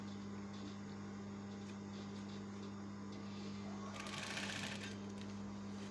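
A sewing machine stitches a seam in a steady, close mechanical whir with a constant hum, briefly rising in busier clatter near the end.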